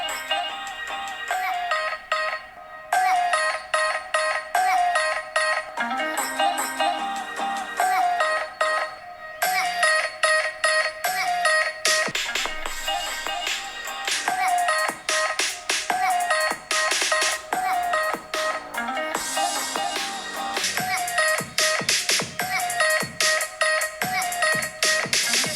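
A Xiaomi 11 Ultra phone plays music through its Harman Kardon speakers, a steady, fairly loud stream of bright, busy music with short breaks near the start, running without talk.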